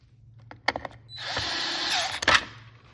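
A power drill driving screws while fitting a Minn Kota Ultrex steering sensor, a steady whine of about a second after a few sharp clicks and taps, close by and fairly quiet.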